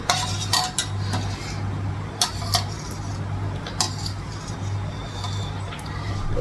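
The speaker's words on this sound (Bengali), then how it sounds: "কড়াই বসিয়ে দিয়েছি, আর এদিকে ভাতটা বসালাম।" Metal wok (kadai) set on a home kitchen stove among pots, giving sharp scattered clinks and clatters over a steady low hum, close by.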